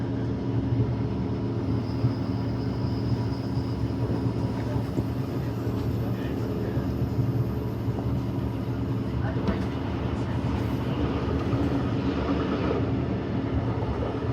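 A train on Brisbane's Ipswich line rumbles past with a steady, deep, droning roar. The sound stays loud and even throughout, with a low, engine-like hum and no clear break.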